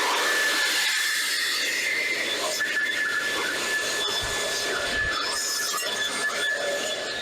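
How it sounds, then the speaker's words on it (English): A leaf blower runs continuously, blasting dirt out of cracks in a driveway outdoors, a steady loud rushing roar with a thin whine and some scraping grit, with no voices over it. "I usually use my blower to blow the dirt away."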